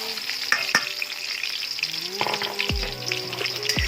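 Garlic fries in a hot pan for shrimp bagoong, a loud steady sizzle with scattered crisp pops and stirring scrapes close by.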